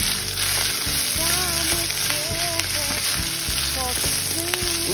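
Shrimp and broccoli fry in a hot pan with a steady, close sizzle and crackle throughout, while faint voices and some high tonal sounds drift in the background.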